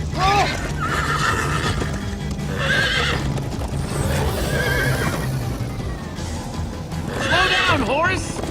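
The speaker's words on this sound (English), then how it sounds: "Slow down, horse!" Repeated horse whinnies from a video game horse in Minecraft: Story Mode rise over a steady rumble of hooves and motion, with people talking throughout.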